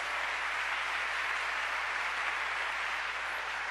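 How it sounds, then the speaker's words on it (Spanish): Congregation applause during a Sunday church service, a smooth, sustained wash of clapping that sounds faint and distant and stays steady throughout. "Denle ese aplauso fuerte al Señor entonces"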